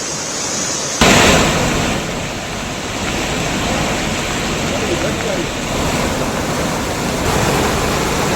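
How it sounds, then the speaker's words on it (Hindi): Rushing floodwater after a cloudburst in Sahastradhara, Dehradun, a loud continuous broadband roar of fast-moving water that surges after the first second and holds steady, close to the microphone. "नदी किनारे की कई दुकानें पानी के तेज बहाव में बह चुकी हैं।"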